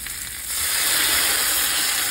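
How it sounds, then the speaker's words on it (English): Water poured into a hot pan bursts into a loud, sustained sizzle and hiss of steam, used to melt cheese over fried fish, swelling up after half a second and holding steady. "Steam it up."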